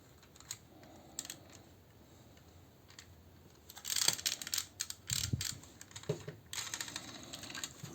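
A plastic Toyworld Burden transforming toy being folded, with light plastic clicks and ticks scattered at close range, turning into a denser cluster of snapping joint clicks partway through.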